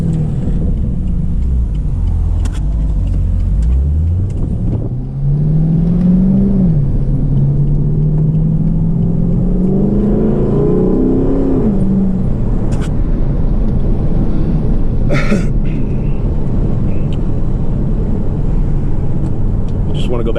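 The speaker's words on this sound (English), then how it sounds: "Do another little downshift here. That's second going into first." A 2012 Chevrolet Caprice PPV engine drops from second into first with paddle shifters, its rumble climbing steadily in pitch and rising in a brief rev blip before easing off, heard up close from inside the car.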